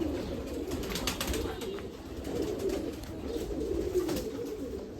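Dabla breed pigeons coo nearby in a loft, with soft, repeated throaty calls over a steady low background hum.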